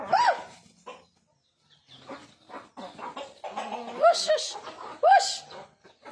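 Chickens cluck in short, nasal bursts close by, mixed with a person talking and chuckling.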